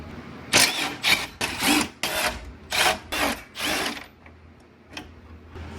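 Torx T30 screws on a 2024 Ford F150 5.0 fog light housing are worked loose with a tool, giving a run of short, loud, rasping bursts in quick rhythm, then quieter faint clicks.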